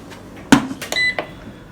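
A rice cooker beeps after being switched to its rice cooking function, giving a sharp click or press followed by a short series of close electronic tones in a quiet kitchen.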